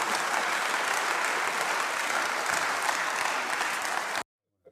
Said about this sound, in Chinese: 所以全场鼓掌